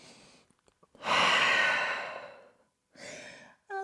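A yoga practitioner holding downward dog takes a deep breath: a long, close, airy exhale rising and fading, then a shorter breath after a pause.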